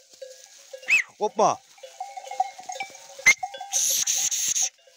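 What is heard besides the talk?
goats and sheep bleating on a mountain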